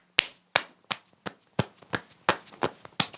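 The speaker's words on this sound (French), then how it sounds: "Franchement, on peut applaudir la mère qui a cru sa fille" Sparse, sharp individual claps at an uneven pace, about ten distinct hand strikes from a single nearby person clapping in approval of a mother.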